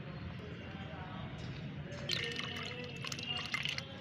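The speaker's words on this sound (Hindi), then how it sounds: "जो भी मैंने छिलके इसमें यूज़ किए थे इसको मैं छान लेती हूँ।" Liquid fertilizer made from decomposed fruit and vegetable peels being strained, with trickling, dripping water sounds that grow louder midway, a voice faintly under it.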